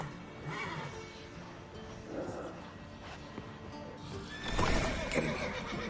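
Horses whinny and neigh loudly in The Witcher 3 video game over a busy background of hooves and clatter, with a louder burst near the end.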